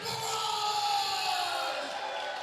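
Crowd noise at a pickleball league championship court, a dense sustained roar of cheering voices filling the space steadily without breaks.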